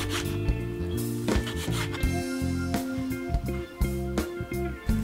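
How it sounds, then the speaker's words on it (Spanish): Knife chopping bacon into small cubes on a cutting board, a series of irregular knocks and scraping cuts with brief pauses between strokes, close and clear. "Y lo vamos a cortar a cuadraditos pequeños."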